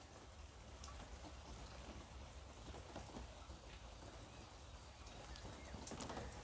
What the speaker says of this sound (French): Vous pouvez aussi entendre et écouter le son de la pluie sur le toit de la véranda.